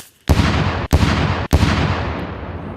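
Three loud explosive detonations, set off in sequence after a countdown during a safety-supervised outdoor demonstration, each a sharp close blast with a long rumbling decay that overlaps the next.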